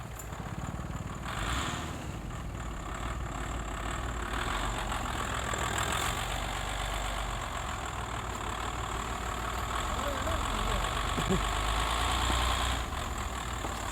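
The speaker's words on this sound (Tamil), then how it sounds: "ஸோ கைஸ் வண்டி வந்து ஸ்டார்ட் ஆயிடுச்சு." A Skoda Superb undergoing restoration idles at a workshop just after starting, its engine giving a steady, even rumble with a faint knock throughout, near and continuous with no talk.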